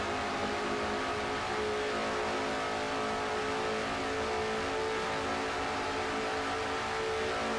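A Chevrolet stock car in a sim racing game, heard onboard at the Brickyard, roars at full throttle near 209 mph, a loud steady engine drone with layered harmonics and no break throughout.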